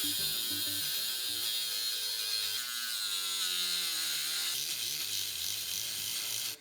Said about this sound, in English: So the Dremel it is to grind down the fans a bit.